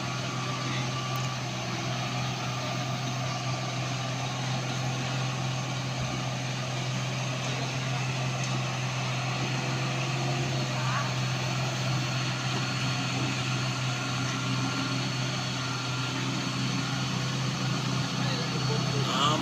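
A dump truck engine accelerates slowly, a steady low drone that rises only a little and holds throughout. Faint background sounds can be heard around it.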